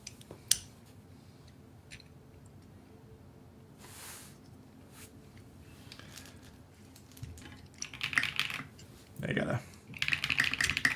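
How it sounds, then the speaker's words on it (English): Typing on a loud, undampened custom-built mechanical keyboard fitted with X-wing keycaps, with scattered clacks early on that build into denser bursts of keystrokes near the end, alongside faint background sound. "I gotta dampen this other keyboard. It's super loud."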